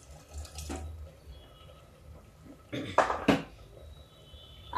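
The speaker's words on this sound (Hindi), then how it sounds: "देखिए थोड़ा पानी और डाल देते हैं।" Water is poured into a cooking pot in a home kitchen, making a couple of brief, soft splashing bursts over a quiet background.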